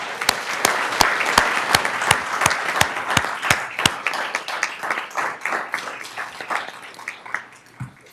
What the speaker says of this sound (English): I think our superintendent deserves a round of applause